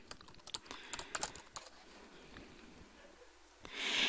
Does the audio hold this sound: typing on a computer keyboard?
yes